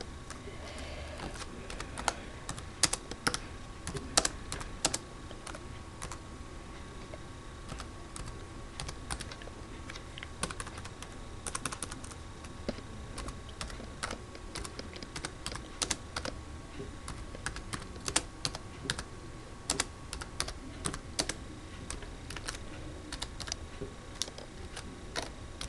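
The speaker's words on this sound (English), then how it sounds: "Just type in your details." Rapid keystrokes on a computer keyboard while details are entered for adding a Cydia repository, a steady run of close, crisp clicks lasting throughout, with no voices.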